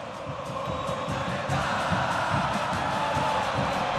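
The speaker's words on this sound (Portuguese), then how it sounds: "Canta alto, canta bonito a torcida do Grêmio" Grêmio supporters fill a Porto Alegre stadium at a Libertadores match against Cerro Porteño, a loud, continuous roar of massed voices chanting and cheering with no breaks.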